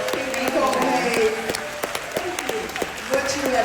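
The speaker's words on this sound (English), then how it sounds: "Can we give Pinky a big round of applause?" An audience applauds entrepreneur Pinky Cole at a fireside chat, with scattered distinct claps over a steady wash of clapping while a voice talks over it.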